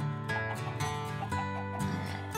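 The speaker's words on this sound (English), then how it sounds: "Come on, chickens." Chickens clucking in the Minecraft video game, a few short, close, repeated clucks sounding over a steady musical background.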